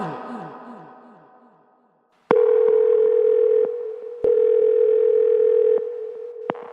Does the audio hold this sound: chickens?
no